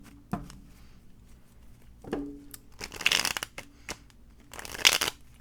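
Tarot cards are handled and shuffled at a table, with a few sharp taps followed by two dense riffling bursts, close and fairly crisp against a quiet room hum.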